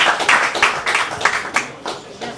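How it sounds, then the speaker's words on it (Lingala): Audience applauding at a charity foundation event, a steady run of clapping hands with distinct rhythmic bursts, fairly close and loud, with no talk over it. "On peut applaudir."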